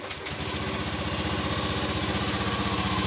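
A Honda Beat Fi scooter engine catches and settles into a steady, even idle, its rhythmic low putter running close and continuous after a brief starting clatter.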